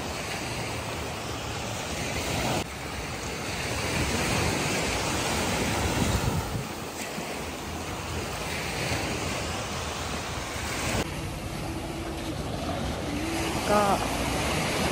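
Steady wash of small waves at a little beach bay on Pratamnak Soi 4, a continuous close surf roar with wind buffeting the microphone and no clear speech.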